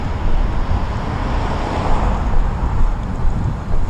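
Cold wind rushes past while someone rides a Onewheel electric board outdoors, making a steady, loud low roar and buffeting rumble that fills the whole stretch with no voices.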